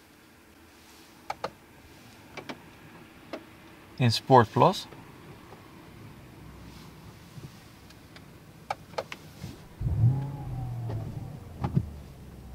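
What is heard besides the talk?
Mercedes-Benz S560 Coupe engine starting and revving in Sport Plus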